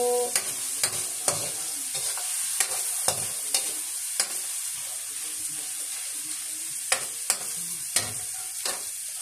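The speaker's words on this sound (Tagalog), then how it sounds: "So, medyo yun lang po natin na maluto yung ating sibuyas at kamatis mga kaguro." Onions and tomatoes sizzle steadily in a pan while frying for menudo, a constant hiss broken by sharp clinks of a stirring utensil against the pan, with no talking.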